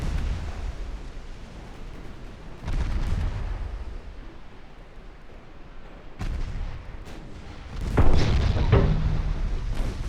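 Torpedo hits explode against a warship in a naval video game, deep rumbling booms rolling one after another, with a heavy burst near the start, another midway and the loudest strikes landing near the end.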